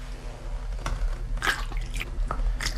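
Water tipped by hand into the fuel box of a motorcycle said to run on water, in New Zealand, trickling and splashing close by with a few drip-like bursts over a steady low hum.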